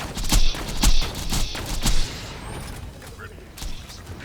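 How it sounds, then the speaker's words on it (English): Sniper rifle shots in the Borderlands game: three sharp, close cracks land about half a second to a second apart, then fainter action sounds follow. "I can probably get him with the sniper"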